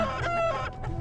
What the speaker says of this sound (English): is that a chicken?